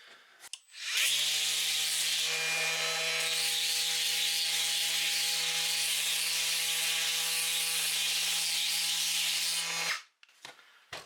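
Sandpaper scrubbing over a large flat 3D printed RC car body, a loud steady abrasive rasp lasting about nine seconds with no break, then stopping.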